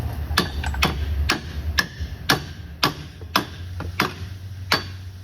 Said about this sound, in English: I just take a hammer.